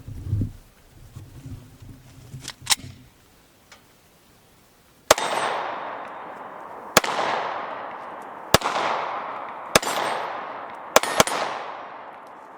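Five sharp, loud gunshots from a Glock 43 9mm pistol, fired at an irregular pace of about one every one to two seconds, each shot trailing into a long echoing decay, after brief low talk and a few handling clicks at the start.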